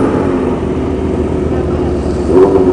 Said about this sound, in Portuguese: Barulho da porra da moto de Policarpio.